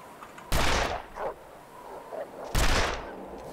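Two loud gunshots ring out about two seconds apart in The Long Dark video game while hunting a rabbit, each a sharp crack with a brief ringing tail over quiet background.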